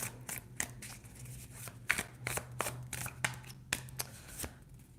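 A deck of tarot cards is shuffled by hand in a quick run of crisp riffling flicks and soft slaps, close and fairly quiet, with a low hum underneath.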